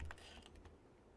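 Typing on a computer keyboard to enter a name into a running program: a short, quiet burst of a few clicking keystrokes, with no talk.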